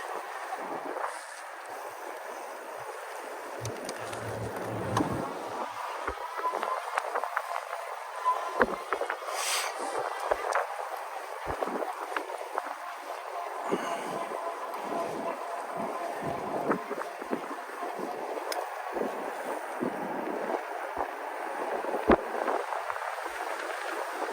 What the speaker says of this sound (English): And that wind.